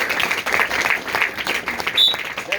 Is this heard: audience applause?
yes